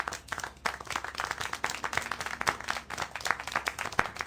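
A crowd applauding, many hands clapping in a dense, uneven patter that holds steady throughout without any voices.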